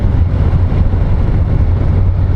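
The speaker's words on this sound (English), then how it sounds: "I really like the sound of the engine" A Yamaha FJR 1300 motorcycle engine drones steadily at speed on a test ride, a loud low rumble mixed with rushing wind noise and no voices.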